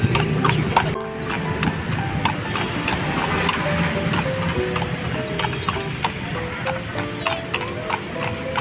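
Horse hooves of a kalesa carriage horse clip-clop steadily and close by on a Manila street, a run of sharp knocks repeating throughout, with faint voices in the background.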